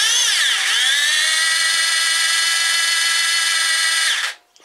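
SDS-plus drill spinning in a homemade metal milling machine: a loud, steady high whine with many harmonics that dips briefly near the start, runs evenly for about four seconds, then cuts off sharply as the motor stops.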